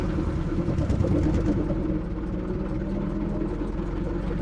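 A 115-year-old antique car with no brakes and a large wooden steering wheel, its engine running steadily in first gear, with a close, continuous low rumble and chugging throb that holds even throughout.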